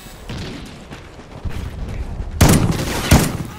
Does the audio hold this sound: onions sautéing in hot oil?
no